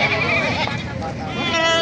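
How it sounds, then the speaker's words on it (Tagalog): Large goats bleat loudly nearby at a goat market, wavering cries overlapping with a person talking over them. "Ayan, magandang klaseng kambing din."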